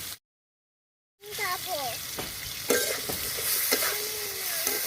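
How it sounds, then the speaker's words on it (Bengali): Cut potatoes with turmeric and salt fry in oil in a pan, giving a continuous sizzle with scraping stir strokes that begin after a brief silence. "আলু তেলের সঙ্গে একটু ভেজে নিচ্ছি"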